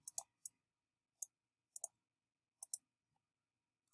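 Mouse clicks on a housing application portal, sounding as crisp isolated taps: several single and double clicks spaced irregularly over a few seconds, close and fairly quiet against silence.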